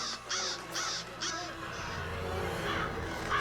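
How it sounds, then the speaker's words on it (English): Several harsh crow caws ring out in quick succession over low background noise, followed by quieter rustling. "Birds. Crows. That's ominous."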